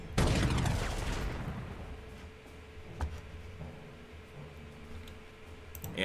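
A burst of tank gunfire from a Panzer attacking Polish infantry in the Panzer Corps 2 strategy game, Siege of Warsaw 1939, loud at first and then fading into a rumbling tail with a few scattered later reports.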